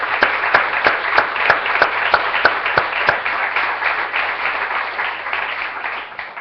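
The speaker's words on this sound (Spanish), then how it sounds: "Démosle un aplauso al Señor." A church congregation claps for the Lord. Loud, near applause begins with a run of sharp, fairly regular individual claps standing out over the crowd, then settles into a denser, even patter that fades slightly at the close.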